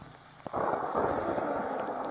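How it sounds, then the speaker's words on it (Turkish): Rain on a rainy day: after a brief knock, a steady, broad hiss of rainfall starts abruptly and holds at an even level to the end, with no talking. "Bugün yağmurlu günde"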